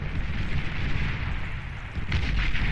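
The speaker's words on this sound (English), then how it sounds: "In come the bombs" Atomic bombers' bombs explode in a strategy video game, a continuous loud roaring rumble of blasts with a heavier burst near the end, no talking.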